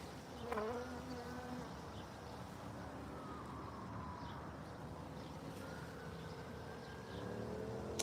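Honeybees hum in a faint, continuous swarm during a backyard honey harvest, a steady buzzing drone with an occasional individual bee whining closer by.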